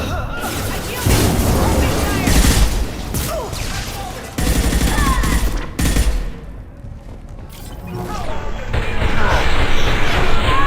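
Heavy gunfire erupts in a Mass Effect Legendary Edition firefight, with dense bursts of shots, booms and crashes close by, continuing in waves beneath shouted combat speech.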